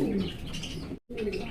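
Fancy pigeons at a seller's stall, giving soft close cooing and short calls with a brief break in the middle, no one speaking over them.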